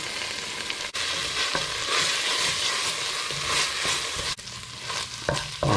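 Thai red curry paste fries in a pan with a steady, dense sizzle that barely lets up, while a spoon scrapes and stirs it in short bursts. Nobody speaks.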